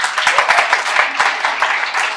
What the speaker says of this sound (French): Merci de vous applaudir très fort